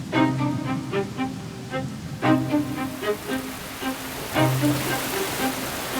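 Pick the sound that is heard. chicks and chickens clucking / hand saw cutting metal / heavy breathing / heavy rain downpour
heavy rain downpour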